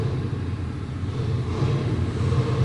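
A 1978 Yamaha SR500 single-cylinder motorcycle engine runs steadily with a low, even rumble, close and moderately loud, without voices.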